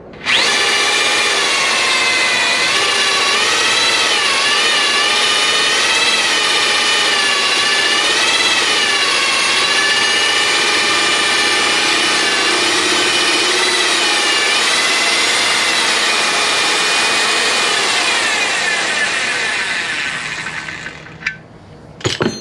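A line boring machine cuts VW engine bushings with WD-40 as lubricant, a loud continuous high whine with steady tonal harmonics that wavers slightly, running alone for about twenty seconds before spinning down near the end.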